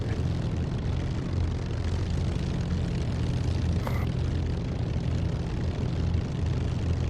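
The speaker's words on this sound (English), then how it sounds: "I love the way that airframe shutters left and right as the engine spools up." An aircraft engine in the DCS flight simulator spooling up as the airframe shudders, a loud, steady low drone that fills the whole stretch with no talking.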